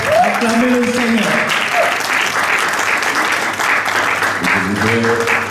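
Congregation applauding at a religious wedding ceremony, loud sustained clapping that fills the whole stretch, with a voice speaking or chanting over it near the start and again at the end.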